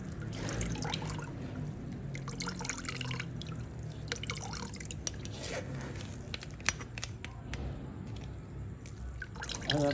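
Homemade Jamaican ginger beer drips and trickles through a strainer in a continuous patter of small liquid splashes, close and fairly quiet, with no talking.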